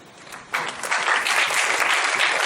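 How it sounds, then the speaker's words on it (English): Audience applause at a talk on the future of work swells suddenly from quiet into sustained, dense clapping from a crowd, loud and continuous. "Clap for yourself."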